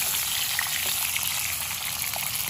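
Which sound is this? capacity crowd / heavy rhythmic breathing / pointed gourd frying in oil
pointed gourd frying in oil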